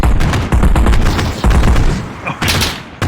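Rapid gunfire in a VRChat roleplay game, loud dense bursts of shots clattering almost continuously for about three seconds, with a brief dip and a final volley.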